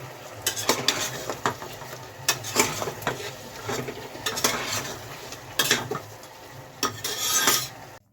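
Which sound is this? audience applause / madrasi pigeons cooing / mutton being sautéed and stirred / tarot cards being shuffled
mutton being sautéed and stirred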